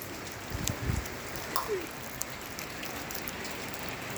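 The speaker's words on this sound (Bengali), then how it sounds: "গাইস এখন টিপ টিপ বৃষ্টি পড়ছে" Light drizzle falling outdoors, heard as a faint, steady hiss of patter with a few soft scattered drops throughout.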